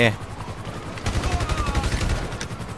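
Rapid bursts of automatic gunfire from video game weapons in GTA Online, several overlapping volleys of loud close shots in quick rhythm, with a brief pause near the start before the firing resumes steadily.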